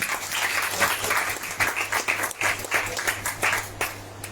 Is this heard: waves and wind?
no